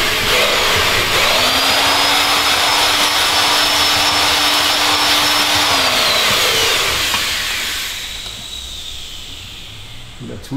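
A cylinder honing machine works inside an Audi S4 engine block, giving a loud, steady grinding whine with a held tone that runs for several seconds and then winds down, leaving quieter workshop noise.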